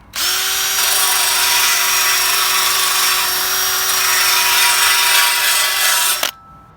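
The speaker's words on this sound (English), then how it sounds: "I've got my drill with a flap sanding wheel here. I'm just going to use that to clean up the edge" A drill spinning a flap sanding wheel grinds along the edge of a metal sump guard for a Land Rover Freelander 2, a loud steady whine with harsh abrasive hiss throughout, cutting off abruptly near the end.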